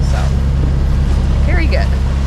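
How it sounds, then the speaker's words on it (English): A sailboat's engine runs with a loud, steady low drone and wind and water noise around it, while a voice talks faintly over it. "we get to test the engine, and so far it's been performing really well"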